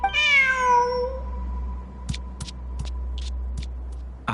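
A cat in the video game Genshin Impact lets out a single clear, drawn-out meow over a low ambient hum, followed by a few soft taps and clicks.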